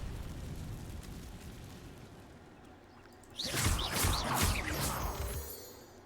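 An Incendio fire spell in Hogwarts Legacy bursts into a crackling, roaring blaze after a stretch of low ambience, flaring loud for about two seconds before fading.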